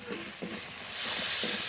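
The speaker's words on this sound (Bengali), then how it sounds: "মশলাটা খুব ভালো করে কষিয়ে নেব" Spice paste of ginger, garlic and green chilli being fried and stirred in a pan for prawn malai curry, a steady close sizzle broken by several rhythmic scraping strokes of the spatula.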